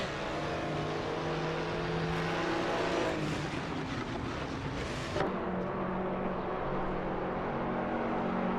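Race cars lapping a track in the Gran Turismo Sport racing game, engines droning and revving loudly, with cars sweeping past in layered waves and a sharp shift partway through, no voices.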